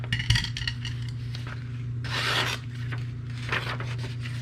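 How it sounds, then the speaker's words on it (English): Metal scraping and rubbing of an inexpensive Ozark Trail knife blade drawn along a knife steel, a few rasping strokes with one louder sweep near the middle, close and alone without talk. "a knife steel is supposed to put the edges straight again"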